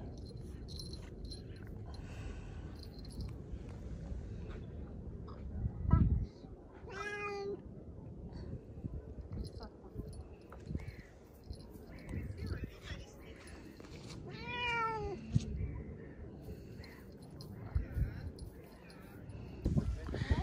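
Bengal cats give two distinct meows several seconds apart while out on a spring walk toward a lake, faint against rustling footsteps and outdoor background, with people talking nearby.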